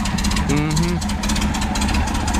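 A 1972 VW Type 3 Squareback engine idles roughly, a loud uneven chugging with pulsing mechanical clatter, while a person speaks briefly over it early on.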